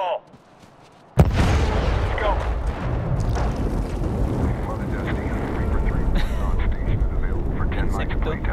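A demolition charge explodes in Medal of Honor (2010) as a sudden, loud boom out of near-silence. A long rumbling roar and debris-like noise follow and continue to the end.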